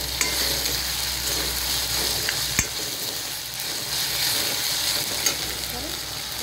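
Surmai fish curry base sautéing in a pan just before masala goes in, with a steady loud sizzle and occasional spatula scrapes against the metal.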